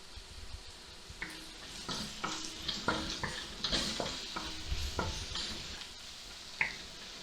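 Garlic sizzles in a hot pan while a utensil stirs and scrapes it in repeated strokes, the frying hiss steady underneath and a louder clack near the end; no one speaks.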